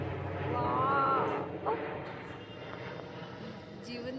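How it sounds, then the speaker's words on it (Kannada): An airplane flying overhead drones softly in the distance, a low steady engine rumble running under people talking throughout. "ನೋಡ್ರಿ ಏರೋಪ್ಲೇನ್ ನೋಡ್ರಿ"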